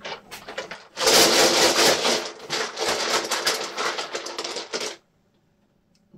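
Dice rattle and clatter in a dense, continuous burst of sharp clicks for about four seconds, close and fairly loud, then stop abruptly into near silence.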